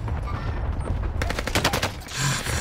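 Rapid automatic gunfire in the video game Call of Duty Warzone, a dense close burst of shots mid-clip over a low rumbling game background.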